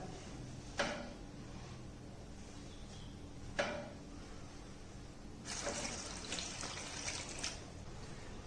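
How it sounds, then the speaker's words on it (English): Water is poured into a faradic foot bath with a patient's foot in place, a faint steady splashing and trickle in a quiet room, with two brief knocks before the pour grows fuller toward the end. "we have to put the patient's foot and then we have to add the water"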